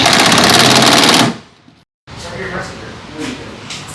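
A Milwaukee power tool rattles loudly for over a second, tightening nuts on a car roll bar, then cuts off; after a brief silence, people talk in a garage.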